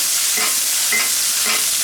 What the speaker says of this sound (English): keep basting that steak.